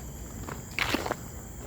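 A few crunching footsteps on a rail corridor trail outdoors, fairly close, over a constant high insect drone from cicadas.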